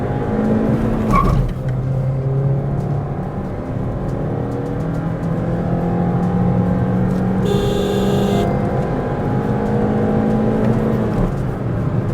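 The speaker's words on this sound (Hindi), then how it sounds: "व्हील स्पिन सुनो।" A 2024 Honda Amaze i-VTEC engine drones steadily at high revs with a whirring, straining tone during a hard launch with the tires spinning.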